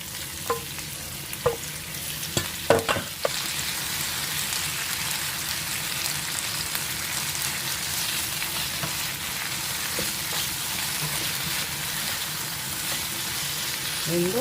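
Thin-sliced pork belly sizzles and fries in a pan under a constant loud crackle, with a few sharp utensil clicks early on as it is stirred.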